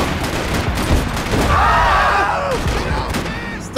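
Gunfire in the video game Max Payne 3, a short burst of shots with a whooshing sweep, fairly loud and steady over a constant game background.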